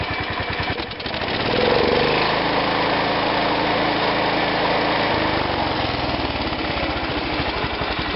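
Small engine fitted with a Walbro carburetor, a 140 H3, sputters at first and then settles into a loud, steady, buzzing run close by, with no talk.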